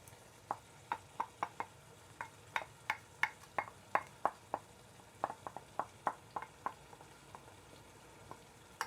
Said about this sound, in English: in goes the tomatoes